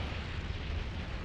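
Missile volleys launch from a Kestrel frigate in the EVE Online space game, a short dense rumbling burst of explosive booms with no voice over it.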